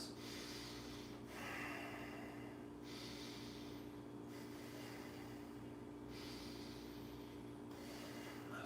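Slow, steady breathing during a yoga flow, with long airy inhales and exhales repeating in an even rhythm over a constant low background hum, faint and close.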